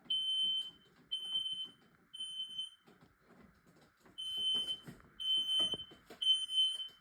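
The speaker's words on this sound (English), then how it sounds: "This detector doesn't want to shut up for properly." A smoke detector alarm sounds in repeated piercing high beeps, pausing then resuming in pulsed bursts, fairly close and loud, with faint handling noises in between.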